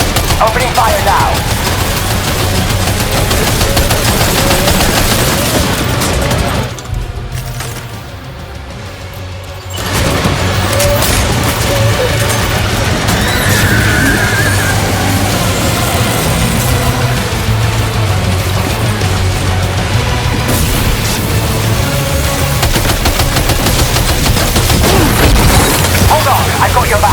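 Dense, sustained gunfire and booming impacts in the Death Stranding 2 video game, continuous and loud across the whole stretch with a short quieter gap partway, mixed with game effects and occasional voices.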